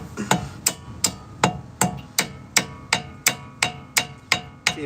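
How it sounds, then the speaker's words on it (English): A hammer taps on car brake parts during a brake job, about a dozen sharp metallic strikes in an even, unhurried rhythm, close and clear with no talking. "May need a hammer."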